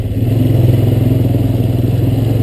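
A Honda Recon ES ATV engine chugs steadily while driving through mud on a trail ride, a loud, close, low rhythmic throb with a clattering pulse and no talk.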